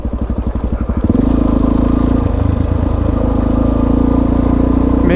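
A motorcycle engine putters with a pulsing low thump, then settles into a loud steady drone as the bike cruises along a road, recorded close to the machine.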